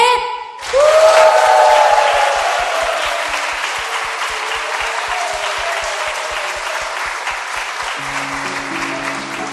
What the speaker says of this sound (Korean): 우리가 할 수 있는 가장 큰 박수와 함성을 하나님께 올려드리면서